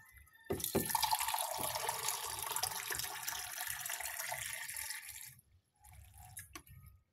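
A strong stream of water pours into a storage container for about five seconds, a close, steady gush that stops abruptly, followed by a quieter trickle and a few drips.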